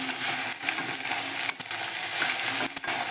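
Okra that has already been fried is stirred together with a small teaspoon of turmeric in a pan, giving a steady scraping and sizzling sound broken by a few short knocks. No one speaks.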